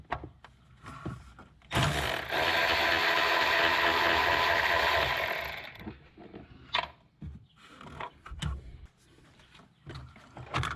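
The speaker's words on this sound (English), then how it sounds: "To remove the battery tray, you'll first need a 10mm socket." A ratchet with a 10mm socket turns battery tray bolts on a Hyundai Santa Fe, giving a loud, close, sustained mechanical whir for about four seconds, followed by scattered clicks and clunks.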